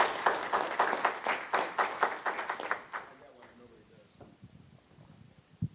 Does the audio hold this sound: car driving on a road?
no